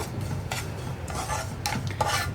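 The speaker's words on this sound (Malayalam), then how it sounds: "ഇനി പഞ്ചസാര ഒന്ന് ചൂടായി വരുന്നത് വരെ നമ്മളൊന്ന് ഇളക്കി കൊടുക്കുക" Sugar and rava are stirred in a pan over a low flame, with a run of soft, repeated scraping strokes close by and no talking.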